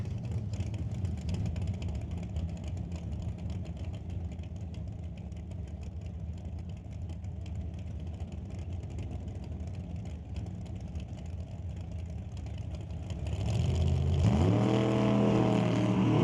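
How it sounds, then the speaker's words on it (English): A 1963 Chevy II and a 1971 Chevelle at a drag racing event, engines droning at a distance for a long stretch before a loud rising rev surges near the end, with no talking. "Gord Hidber in the 63 Chevy 2 in the left lane here, taking on Steve McKenzie in the 71 Chevelle"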